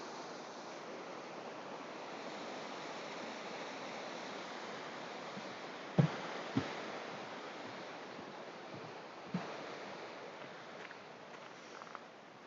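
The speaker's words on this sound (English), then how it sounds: "we do have another very pretty little waterfall there, just coming over some rocks" A small waterfall spills over rocks in the Lake District fells, a steady broad rush of water heard continuously, with a few brief knocks and bumps near the microphone.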